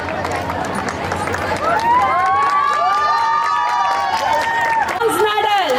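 Cheering and applause at a school sports meet rise into a sustained crowd of excited shouting voices, many children's, loud and close, filling the whole stretch with overlapping calls.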